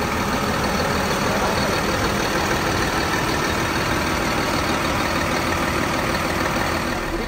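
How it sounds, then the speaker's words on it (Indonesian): A Hino RM bus diesel engine idles steadily and loudly, a constant low rumble with no change in pitch throughout. "dan Hino RM ini suara mesinnya halus banget."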